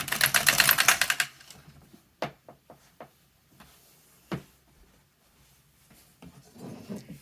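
A knitting machine carriage running across the needles to cast on waste yarn gives a rapid mechanical clatter at first, then scattered single clicks and knocks from the machine, close with no talk.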